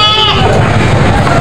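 Goats at a busy goat market bleat in a steady, loud clamor that lasts the whole moment, with market chatter and voices mixed in around the animals.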